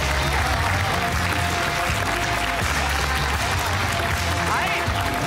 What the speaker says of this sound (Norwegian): nå skal vi juble dem inn